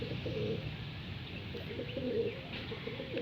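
Racing pigeons coo softly and repeatedly close by, their low rolling calls rising and falling over faint background noise.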